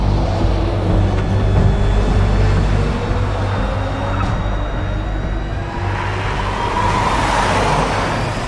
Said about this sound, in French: Il déboîte sur la voie de gauche à toute vitesse pour éviter le stop stick.